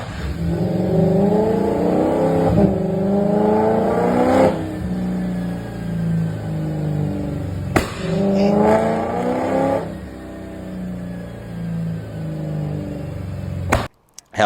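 A tuned BMW E36 engine on a dyno revs hard in two long pulls, climbing in pitch and falling back to idle between them, loud and close, ending with a sharp pop.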